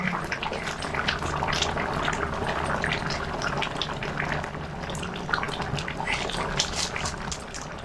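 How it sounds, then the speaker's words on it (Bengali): Katla fish and eggplant curry bubbling in a pan over medium heat, a steady soft simmering and gentle popping hiss that runs continuously and close, with no talking. "7 থেকে 8 মিনিট সময় ধরে মিডিয়াম আঁচে তরকারিটা ফুটানো হয়ে গেছে"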